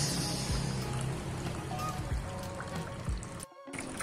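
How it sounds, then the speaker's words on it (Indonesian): Tap water runs into a betta fish breeding and rearing tub in a constant trickling, splashing stream, moderately close, with a brief dropout near the end. "sekarang pengisian air ya"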